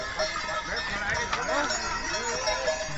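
Horses clip-clop along the Kedarnath pilgrimage trek by a busy pony market, steady hoof beats mixed into a dense crowd with people talking throughout.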